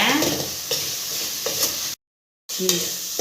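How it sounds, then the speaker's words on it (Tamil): Masala powder is sautéed in a pan, a close, steady sizzle with occasional scraping stirs, broken by a brief silent gap before resuming. "மசாலா தூள்லாம் போட்டுட்டு நல்லா வதக்கி விடுங்க"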